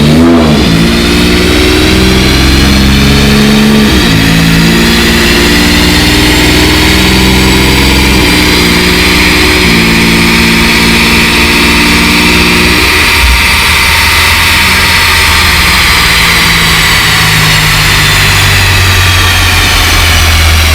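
An Infiniti Q50 with a VR30 engine runs loud and close after a pull, with a steady, uneven low rumble and a high whine, settling down toward idle.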